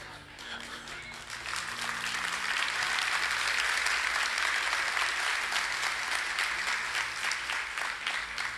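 A church congregation breaks into applause that swells within a couple of seconds into dense, steady clapping and holds at a moderate level throughout.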